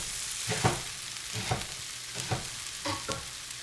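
Minced garlic sizzles in a hot pan with a soft, continuous frying hiss, broken by about five brief scraping bursts from stirring, close and fairly quiet.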